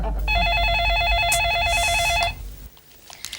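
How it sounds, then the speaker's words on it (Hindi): A telephone ringing during a call, a loud warbling electronic ring tone that trills steadily for about two seconds before cutting off into quieter background noise. "पहले मैं ट्राई करूंगा तेरी बीवी को फोन करके।"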